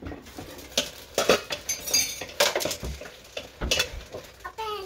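A spoon stirs and clinks against a dish as a child mixes, with a series of sharp metallic taps and scrapes at an uneven rhythm, close and fairly loud.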